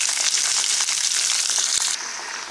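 Chopped brinjal, tomato pieces and gongura leaves land in a hot pan for chutney and set off a loud, dense sizzle and crackle that runs the whole time, easing slightly near the end.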